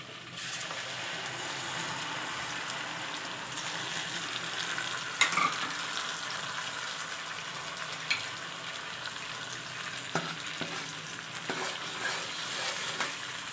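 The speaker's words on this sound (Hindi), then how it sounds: "टमाटर देखिए जी हमारे फ्राई हो रहे हैं" Tomato paste frying in a pan with already fried onion and ginger for a potato dish, a continuous gentle sizzle with occasional stirring clinks and scrapes, near and with no talk.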